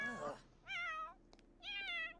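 A cat in The Sims 4 gives three clear, drawn-out meows at close range, each a bright, wavering cry separated by short pauses, with a tiny click between the second and third.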